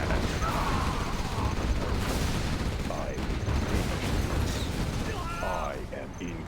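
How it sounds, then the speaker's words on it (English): Gatling cannons firing in the real-time strategy game Command & Conquer: Generals make a dense, continuous mechanical rattle of rapid bursts, with a player talking over the gunfire. "I just love the sound of Gatling cannons."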